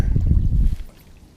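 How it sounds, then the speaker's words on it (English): Strong wind gusting across a lake at a reservoir during bass fishing, a loud low rumble of wind noise on the microphone for most of the moment before easing off. "Yeah, geez, there's so much wind."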